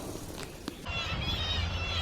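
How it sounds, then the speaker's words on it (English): Nesting seabirds call from a North Sea cliff face in a dense colony chorus of overlapping cackling cries, with a brief thump near the start and a steady outdoor wash beneath. "All these nesting birds clinging to the edge of this precarious cliff face."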